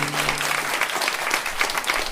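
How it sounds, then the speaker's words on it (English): An audience claps at a live concert in Montpellier, a thick, even burst of many hands that stays loud and steady for the full two seconds. "Big round of applause."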